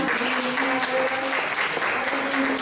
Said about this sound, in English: So please give Betty another round of applause for being here